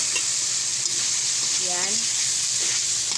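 Previously fried pork sizzles steadily in a hot pan while being sautéed and stirred for adobo, a loud continuous hiss with a brief spoken word over it.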